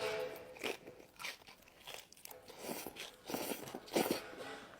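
Crisp bites and chewing on a thin-dough chicken empanada from a food truck, several close, sharp crunches spaced irregularly with quiet gaps between them.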